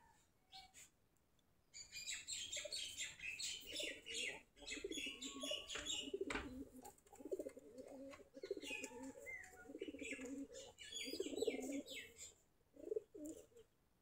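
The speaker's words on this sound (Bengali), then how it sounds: "দেশি কবুতর" Local deshi and round-headed pigeons cooing in the morning, with repeated low throaty coos in rhythmic bursts, fairly close, plus scattered chirps and faint rustles.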